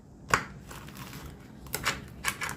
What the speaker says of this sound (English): now I'm gonna cut my jalapenos